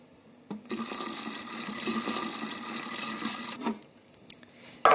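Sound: pouring sugar syrup into raspberry coulis

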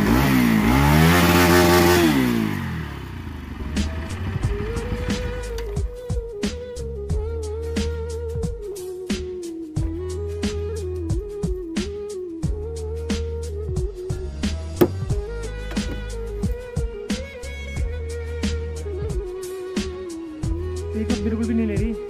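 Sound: Bajaj Pulsar motorcycle engine revving

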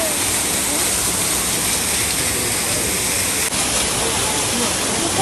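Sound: waterfall at Kaiyukan aquarium

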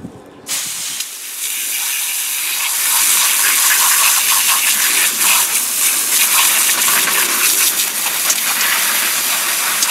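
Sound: garden hose spraying water onto old batteries

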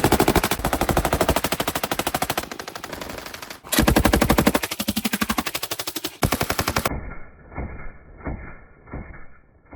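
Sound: Kalashnikov PK machine gun firing

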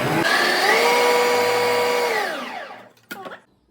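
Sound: mixer grinder chopper running, grinding vegetables

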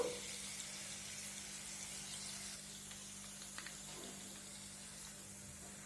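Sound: soy sauce poured into frying garlic chicken pan

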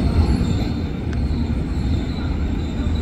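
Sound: KRL Commuter Line electric train arriving at Manggarai station

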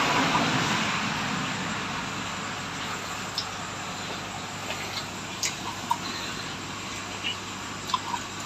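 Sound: military jet aircraft flying during training

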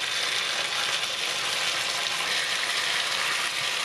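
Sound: chicken thighs frying and sizzling in butter in a pan

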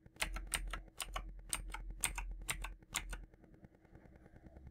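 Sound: typing on a computer keyboard

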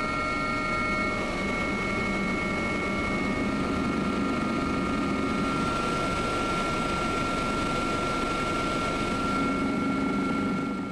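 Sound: helicopter in flight

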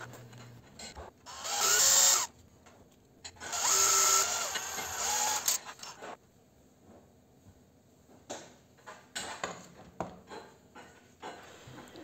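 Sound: drill bit drilling out a rivet on a convector heater

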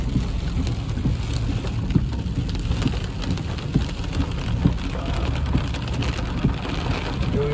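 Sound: heavy rain storm

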